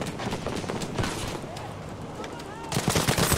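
Lewis gun bursts in Battlefield 5 on the Fjell map sound in rapid, dense gunfire mixed with other battle noise, with voices talking over it.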